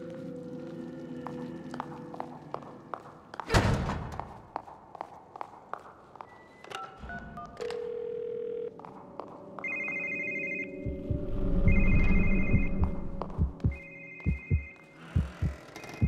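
Telephone sounds in a stealth video game: a series of dial tones and beeps, then a repeated electronic ring in short bursts, with scattered footsteps and thumps, a loud burst early on and no talking.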